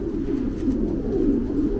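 A pigeon from a racing loft coos close by, a low soft rolling murmur that carries on continuously without pause.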